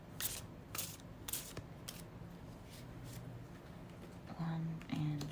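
Tarot cards shuffled by hand in a series of soft, quick riffling flutters, faint and close, with a voice speaking briefly near the end.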